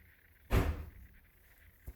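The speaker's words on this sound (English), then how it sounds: "Doors are slamming, maybe." A single heavy door thud lands sharply, followed by a short rumbling decay, then a fainter knock near the end against quiet room tone.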